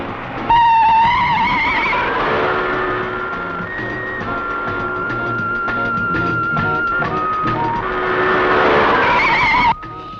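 A car in a film scene, its radiator running dry, skids to a stop with a long wavering tire squeal over a loud engine roar that cuts off sharply near the end.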